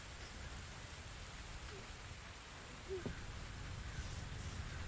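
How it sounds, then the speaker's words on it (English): Steady rain falls in the video game The Invisible Hours, a soft even patter with no voices over it and a faint distant rumble partway through. "Could I persuade you to come out of the rain, Flora?"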